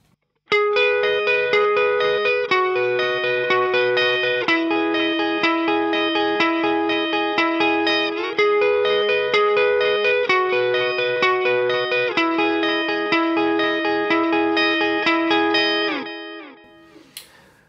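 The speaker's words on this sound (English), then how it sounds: "Now I'm just going to add a bit of delay to it," Electric guitar through a Strymon El Capistan delay pedal, sustained picked notes ringing continuously with repeating echoes blending together for about sixteen seconds before fading into a short tail, loud and with no talking.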